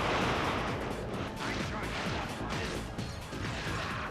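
Dense, continuous barrage of booming explosions and weapon fire from Ratchet & Clank: Going Commando, loud and chaotic, with repeated heavy impacts layered over one another.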